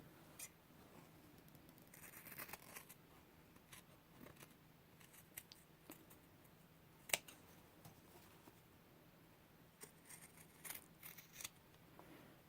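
Scissors cut through backpack fabric along an edge, producing faint, close snipping clicks in irregular bursts over a quiet background, with no talking.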